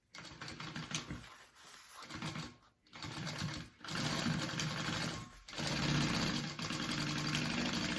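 Sewing machine stitching a pocket onto a fabric bag, running in steady mechanical bursts with brief pauses between runs, close and fairly loud.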